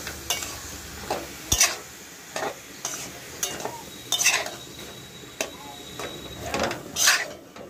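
Bitter gourd and potato are stirred into spice paste in a pan, with repeated scraping strokes of a spoon against the metal, irregular clinks and a faint sizzle underneath.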